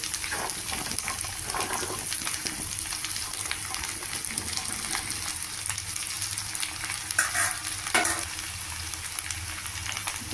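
Chopped okra sizzling and sautéing in a pan, a steady frying hiss with occasional scraping stirs and small pops, close and continuous without any talking.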